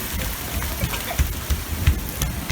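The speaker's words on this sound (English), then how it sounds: "It's fucking raining like big ass drops." Heavy rain falling in big drops during a thunderstorm over Lake Elsinore, a dense close patter with a few louder thumping drop hits, no talk.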